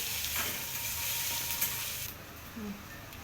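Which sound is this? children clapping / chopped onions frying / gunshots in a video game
chopped onions frying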